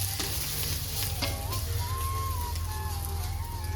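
Eggs frying in a pan, with a steady close sizzle and crackle running throughout, some faint tonal whistling and occasional light clicks in the background, and no talking.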